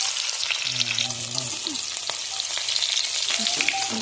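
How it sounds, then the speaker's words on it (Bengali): Katla fish sizzling in hot oil in a wok, a steady dense crackle throughout with a few faint clinks and low scraping sounds. "তো প্রথমে কড়াইতে গরম করে নিয়ে তেল দিয়ে মাছ কড়া ছেড়ে দিলাম"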